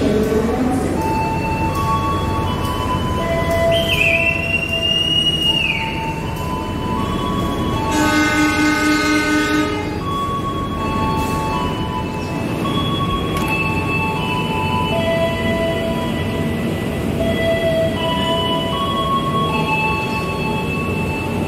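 A train passing through an Indonesian railway station. A steady rumble of rolling wagons runs throughout, with a loud horn blast in the middle, some squealing wheels, and no speech.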